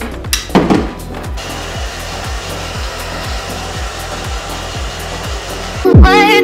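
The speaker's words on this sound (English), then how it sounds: "And then I'll just take the blow dryer just to blow dry that a little bit." A blow dryer blows steadily on a two-year-old synthetic lace wig, with a constant whooshing roar over rhythmic background music. It starts and stops abruptly with brief bumps.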